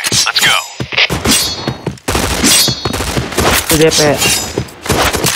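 Rapid gunfire bursts and single shots in an FPS video game, loud and close, with overlapping bangs and thuds while a player talks over the action.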